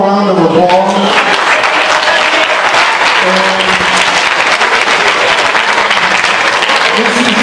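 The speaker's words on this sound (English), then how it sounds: "Please give yourself a round of applause." Students in a high school auditorium applaud loudly after a mayoral debate, steady dense clapping for several seconds while a voice briefly speaks over the start and a little later.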